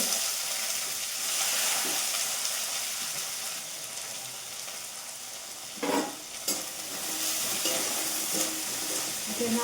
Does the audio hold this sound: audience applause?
no